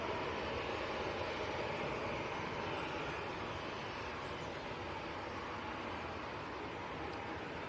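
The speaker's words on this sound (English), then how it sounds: "Ryanair to Berlin, 737-800." A Ryanair Boeing 737-800 jet departs Manchester Airport toward Berlin, its engines giving a steady, broad roar at moderate distance that holds evenly throughout with no voices.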